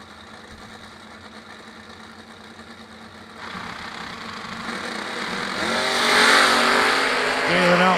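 Drag racing cars, a Mopar and a Camaro, at a race, engines rumbling from a distance and then swelling into a loud roaring rev as they launch.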